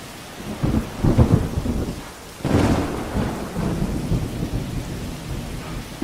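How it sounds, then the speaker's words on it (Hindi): Steady rain falling during a monsoon storm, with a deep rolling thunder rumble building midway and lingering under the continuous downpour; no voices. "दोबारा से बरसात शुरू हो गई थी"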